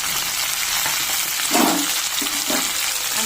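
Drumsticks, radish and carrot frying together in a pan, a continuous hissing sizzle with a few louder bursts of stirring or crackling midway, close and steady with no voices.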